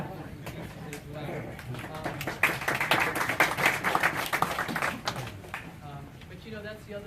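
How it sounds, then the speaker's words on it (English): Concert audience at a Shostakovich chamber concert claps for the page turner, a burst of brisk applause that swells in the middle and thins out, with a voice talking over it. "we're going to give a little special round of applause to our page turner also"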